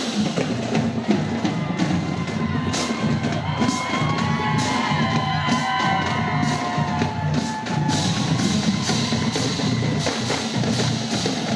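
A parade crowd at Ballard's 17th of May celebration cheers for the Ballard High School Marching Band, with sustained roaring, whoops and children's shouts mixed with scattered claps, fairly close and continuous.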